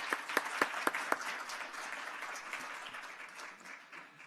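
Applause for an award runner-up at a National Philanthropy Day ceremony, opening with a few sharp distinct claps that quickly blend into a steady, moderate crowd ovation which gradually softens.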